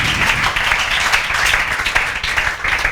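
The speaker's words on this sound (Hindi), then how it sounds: "जोरदार तालियां" A group applauds in a dense, continuous patter of overlapping handclaps, fairly loud and close, holding steady throughout.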